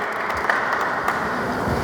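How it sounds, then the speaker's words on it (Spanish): Audience applause at an evening talk session of a Mexican botany congress, a short burst of steady clapping from a seated crowd, moderately loud and even, with no voices over it. "Vamos a darle un aplauso muy fuerte"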